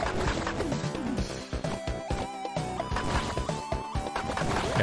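Shots and crashing hits ring out in the pixel-art horror platformer Forbidden Forest. Rapid sharp impacts repeat over busy game music and effects at a moderate level, with no speech.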